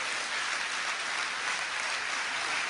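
Audience at a speech by the minister applauding and cheering, a dense, steady wash of clapping that fills the whole stretch without a break.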